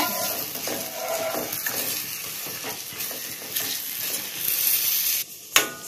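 A spoon stirring and scraping through a gently sizzling pan of potato and green pea gravy, steady and close, with a sharp knock near the end.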